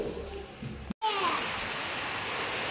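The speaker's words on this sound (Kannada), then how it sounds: "ಮಳೆ ಬೇರೆ ಫುಲ್ ಇದೆ" Heavy rain pours steadily outdoors, a dense broadband hiss; a voice is heard briefly before a short dropout, after which the rain continues alone and loud.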